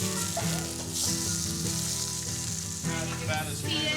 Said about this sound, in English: And then I like to put the veg into the pork pan.